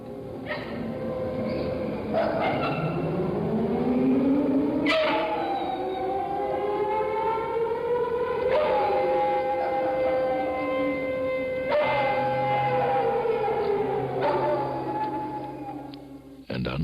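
A civil defense siren for a Saturday-noon air raid drill in New York City wails loudly and continuously, its pitch rising and falling in long sweeps with overlapping tones for the whole stretch.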